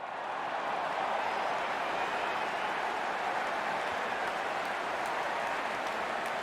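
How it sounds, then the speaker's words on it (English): Cricket crowd at a T20 World Cup 2007 match between Pakistan and South Africa, a steady broad roar of cheering and applause from a large stadium audience, continuous and fairly loud throughout without a break. "Out come the openers, cheered by a good crowd in."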